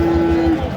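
A cow moos once at a village cattle market where cows and calves are sold, a loud, close, steady low call lasting about half a second.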